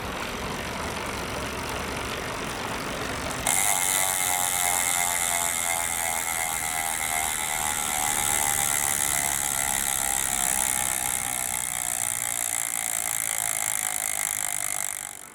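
Bike spun on a direct drive indoor trainer: a steady, loud mechanical whir with a rising tonal whine that builds after a few seconds and holds, close and continuous with no talk.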